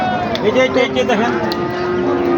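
Cattle lowing amid a busy livestock market for bulls, a brief drawn-out moo close by over crowd chatter and general market bustle.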